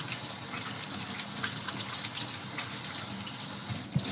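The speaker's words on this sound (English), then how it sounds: "Wash my hands again." Tap water runs steadily into a kitchen sink while hands are washed during meat preparation, a constant soft gushing stream heard alone, with a small splash at the end.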